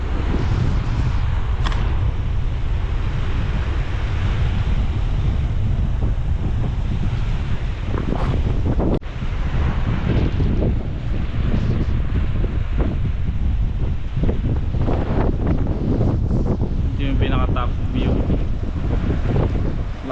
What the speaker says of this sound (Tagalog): medyo malakas yung alon mula dito sa part na to